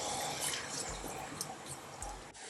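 Water is poured into a pot on the stove to make chai. It makes a faint, steady trickle and splash throughout, with no voices over it.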